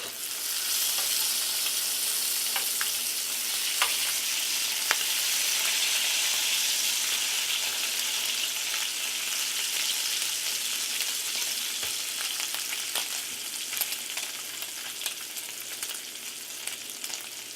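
Half a package of bacon fries in a pan on a stove set to medium-high, giving a steady, dense sizzle with fine crackling pops that carries on unbroken throughout, close and fairly loud, with no voices.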